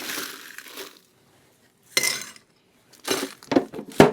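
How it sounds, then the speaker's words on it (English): Ice goes into a cocktail mixing glass in a few separate bursts of clinking and rattling, close up and crisp, with short silences between the drops. "Ice our mixing glass."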